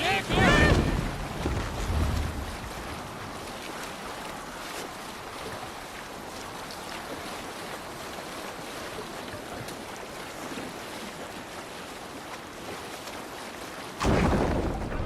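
A Viking longship sails over the waves in the video game Assassin's Creed Valhalla, with a steady rush of wind and water throughout. Voices shout briefly at the start and again near the end.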